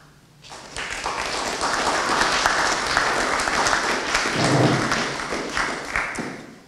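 An audience at an innovation hub inauguration applauds the agriculture and fisheries minister, dense steady clapping that swells quickly after a quiet start, holds strong for several seconds, then begins to taper off.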